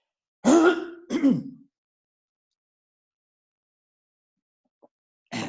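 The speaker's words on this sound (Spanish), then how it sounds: "la carraspera a esta altura ya es casi insoportable" Two rough throat-clearing bursts in quick succession, close and fairly loud, followed by silence and a faint start of something at the end.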